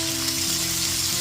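Potatoes frying in a pan for sabudana pulao, being turned over as they cook, giving a loud, continuous sizzle close at hand with a faint low hum beneath.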